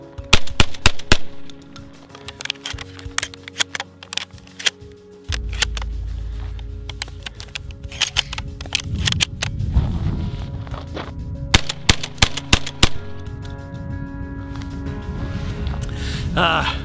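A Stoeger M3K semi-automatic competition shotgun fires a string of sharp, loud blasts, several in quick bursts, with clattering handling noise and a low rumbling background between the shots.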